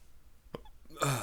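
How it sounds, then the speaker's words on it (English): One quiet, sharp hiccup from a person in a still room, with a brief voiced sound right after it. "Hiccups again."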